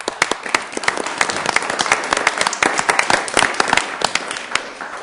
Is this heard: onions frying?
no